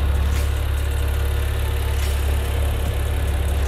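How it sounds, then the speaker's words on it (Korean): A first-generation Maserati Ghibli 3.0 engine idles with the engine bay open, a steady, even low hum with faint ticking, heard close and with no talking. "엔진 소리 일정합니다."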